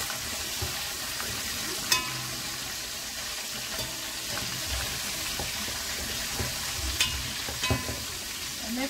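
Mustard-coated chicken pieces frying in a pan, a steady soft sizzle with occasional pops and faint clinks, heard alone throughout.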